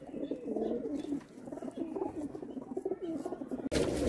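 Breeder pigeons in a loft cooing softly and repeatedly, low throaty calls layered over one another at moderate distance, with a sudden louder burst at the very end.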